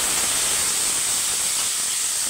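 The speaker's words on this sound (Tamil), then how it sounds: "இப்போ இது வதங்கட்டும்." Onion, green chili, curry leaves and drumstick pieces sauté in a hot pan for a Tamil New Year dish, giving a steady, even sizzling hiss that holds throughout without pause or voices.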